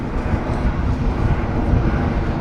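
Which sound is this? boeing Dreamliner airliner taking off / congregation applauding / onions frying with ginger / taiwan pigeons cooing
boeing Dreamliner airliner taking off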